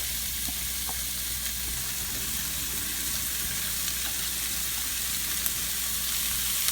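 Onions added to a hot pan with roasted whole garam masala fry in a dense, continuous sizzle close by, with faint stirring clicks and no voices.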